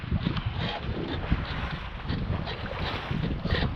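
A sailboat sails at sea on a calm trip between Grimsby and Lowestoft, with a continuous rush of wind and water close to the microphone and no voices.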